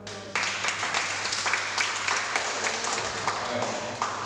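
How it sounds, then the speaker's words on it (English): Crowd applause at a poetry and storytelling festival fills the scene, a dense wash of clapping with a steady hum underneath and some voices mixed in. "Give her a round of applause."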